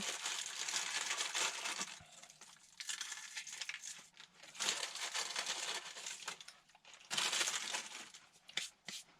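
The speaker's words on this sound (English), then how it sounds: "Put some crackers in here." Close, crisp crunching and crackling, crackers being crushed into a bowl in bursts with brief pauses, loudest near the start and again toward the end.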